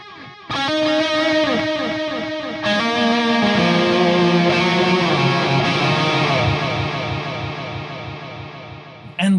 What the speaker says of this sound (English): Endless delay, which everyone likes, right?